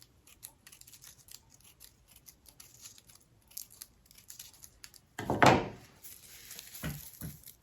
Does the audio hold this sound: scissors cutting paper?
yes